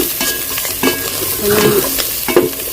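Food frying in a pan in a home kitchen, with a constant loud sizzle and occasional stirring scrapes. A brief spoken word can be heard over it.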